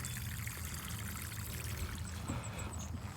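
Water mixed with Epsom salts poured onto fruiting garden plants outdoors, a steady soft splashing and trickling stream that runs the whole time, fairly faint and close, with no talking.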